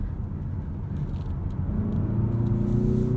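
A 2023 Mazda CX-50 2.5 Turbo drives along a back road, its engine a steady low rumble from inside the cabin that rises slightly as it accelerates toward the end.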